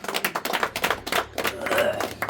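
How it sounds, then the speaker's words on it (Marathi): Close, loud hand claps mark a welcome gathering in Umarga for a couple who returned from Dubai, coming in irregular sharp bursts with short gaps, a few voices mixed in. "मी जोरात टाळ्या वाजून त्यांचं स्वागत करतो"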